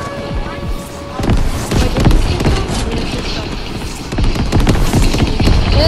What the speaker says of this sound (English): He's gonna throw an airstrike.